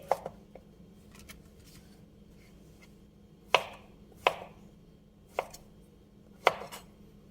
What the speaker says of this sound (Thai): เห็ดสุกง่ายค่ะ เป็นผักที่สุกง่ายก็ไม่ต้องหั่นให้เละเกินไปนะคะ